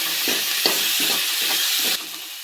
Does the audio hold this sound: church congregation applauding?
no